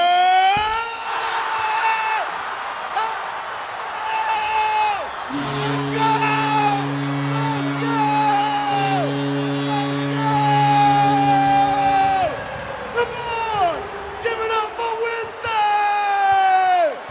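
A crowd at a $5,000 shooting contest yells, whoops and cheers for a shooter, loud and sustained throughout, with sharp shouts rising above the roar and a steady held tone mixed in midway.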